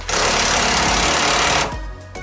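A power tool hammers loose a 19 mm bolt on a second-generation Toyota Tacoma, a loud, continuous rattling burst close by that cuts off abruptly, leaving a lower hum.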